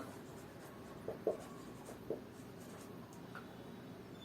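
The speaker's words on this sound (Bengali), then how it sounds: "তাহলে প্রথমে লিখছি" Chalk or marker tapping and scratching on a classroom board during a tenth-grade maths lesson, a few light strokes and taps, quiet and close, with no talking.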